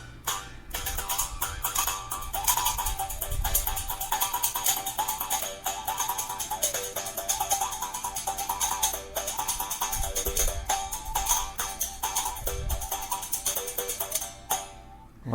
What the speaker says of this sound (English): What do you call that? It's a tune bow.